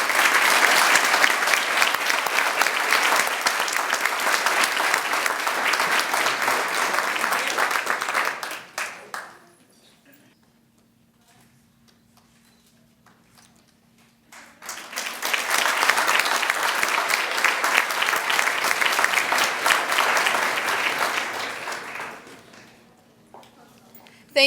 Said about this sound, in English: Please give a round of applause to our final award winner, Miss Kimberly Lowe.